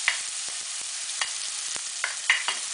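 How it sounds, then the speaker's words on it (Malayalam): Crushed spices hit hot oil with popped mustard seeds for rasam, a steady soft sizzle punctuated by small crackles and pops alone, with no voices. "കടുക് പൊട്ടിയ ഉടനെ നമ്മൾ ചതച്ച് വെച്ചിരിക്കുന്ന സാധനങ്ങളെല്ലാം കൂടെ അതിനകത്തോട്ടിട്ട്"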